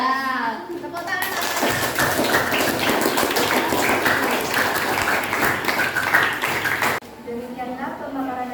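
Classroom applause from students after a group presentation, a dense burst of many hands clapping for several seconds between stretches of voices talking, then cutting off abruptly.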